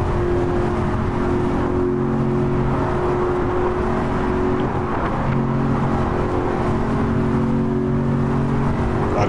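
A car climbs an uphill bend with the accelerator floored, its engine holding a strained, steady drone throughout as it struggles to gain speed, loud and close from inside.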